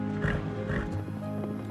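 A horse gives a short neigh close by, in two quick breathy bursts followed by softer rumbling noise.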